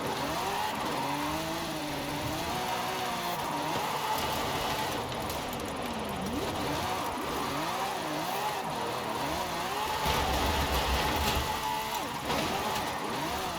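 A car engine in Forza Horizon 5 revs and wails steadily through a drift, pitch sliding up and down with tire noise underneath, loud and continuous throughout.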